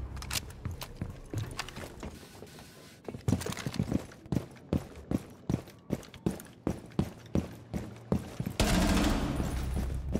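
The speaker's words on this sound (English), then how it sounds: "Shooting that shotgun." Shotgun blasts in Rainbow Six Siege, a steady series of about a dozen sharp, evenly spaced shots mid-clip, with scattered in-game movement and action sounds around them.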